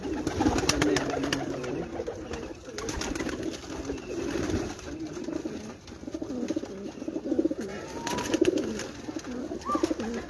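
Pigeons coo in soft, repeated low rolling calls against a busy outdoor background, with faint clicks and rustles scattered throughout and no clear speech.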